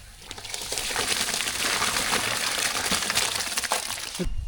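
Rice pours into a pot of boiling water with a dense, crackling sizzle and rushing hiss that builds and holds for several seconds, then ends with a few soft knocks.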